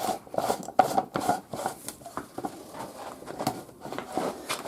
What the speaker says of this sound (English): let me unscrew it and show you.